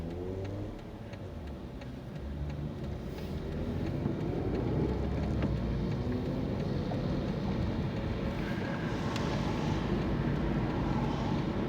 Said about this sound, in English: it was that little car that's just gone down the road that was making all that noise.